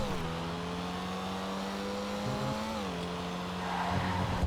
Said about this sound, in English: This thing, like the XA21, has a really awesome and unique little engine sound.